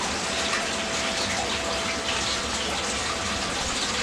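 Water sloshes and gushes steadily in a bucket as tomato plant roots are washed and pulled apart by hand, close and fairly loud, with no talk.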